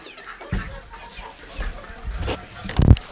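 Several young chickens cluck close by in short, uneven bursts, and the loudest cluck comes near the end.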